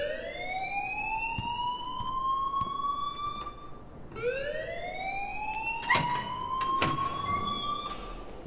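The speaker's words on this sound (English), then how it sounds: "please turn off that alarm since that's your job." A school alarm in the video game Life Is Strange wails in two long rising siren sweeps, steady and moderately loud, with a few clicks and knocks over the top.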